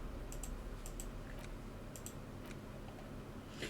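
Typewriter keys from the video game Disco Elysium strike in short, scattered clusters of crisp clicks, fairly faint over a steady low background hum.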